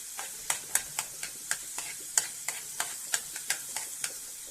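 Garlic sizzles in a hot pan for garlic pasta, a steady soft frying hiss punctuated by regular light stirring clicks, close and fairly quiet with no talk.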